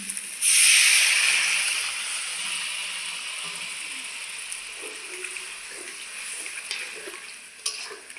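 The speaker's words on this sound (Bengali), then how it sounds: "এখন দিয়ে দেবো অল্প করে একটু জল" A little water is poured into a hot pan of spiced potatoes for a potato and egg curry, setting off a loud, bursting hiss that swells quickly, then fades to a quieter bubbling sizzle with occasional stirring knocks.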